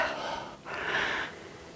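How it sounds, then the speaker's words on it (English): Heavy, close breathing from someone climbing a steep hill, two ragged inhale-exhale gasps in quick succession with no talk. "heavy breathing"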